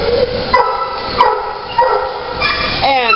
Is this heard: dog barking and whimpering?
yes